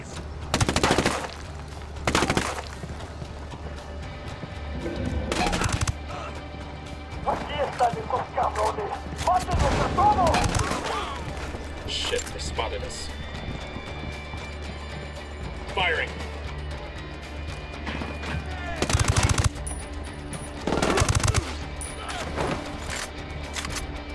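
Gunfire in Ghost Recon Wildlands, with repeated loud broadband shots spread across the stretch, several isolated blasts and a busier cluster of rapid fire in the middle, set against steady game ambience and occasional voices.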